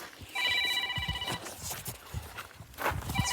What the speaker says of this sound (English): And now my phone's ringing.